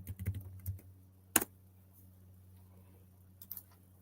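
Keys clack on a computer keyboard in a quiet room, a few soft taps near the start, one sharp louder click midway and a couple more toward the end, sparse and close with no one talking.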